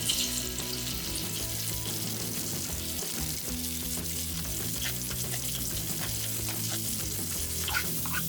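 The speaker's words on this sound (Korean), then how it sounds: "연어살이 부서지지 않도록 볶아준 후" Salmon cubes and mushrooms being sautéed in a pan for a salmon cream risotto, a steady soft sizzle with occasional stirring under a continuous musical background.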